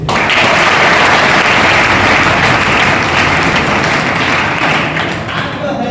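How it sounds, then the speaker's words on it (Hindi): Loud, dense applause from a meeting audience fills the room continuously for about six seconds, holding steady before easing slightly at the end. "ताली होना चाहिए।"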